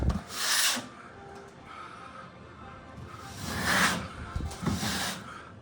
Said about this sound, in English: And then when you scrape, it makes a lot of powder because it's dry.